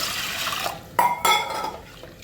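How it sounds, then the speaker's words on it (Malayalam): Toor dal is washed in water, with short splashing and clinking bursts against a pot, close and brief, with no one talking. "ഒരു 1/2 കപ്പ് തോരപ്പരിപ്പ് നല്ലോണം കഴുകി"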